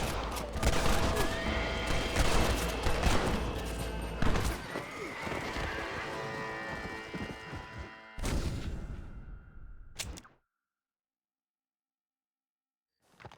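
In the Red Dead Redemption video game, a horse whinnies loudly amid galloping hooves and bursts of gunfire, a busy, dense mix that cuts out abruptly, followed by a brief final noise.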